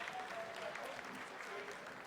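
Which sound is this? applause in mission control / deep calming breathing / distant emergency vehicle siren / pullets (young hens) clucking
applause in mission control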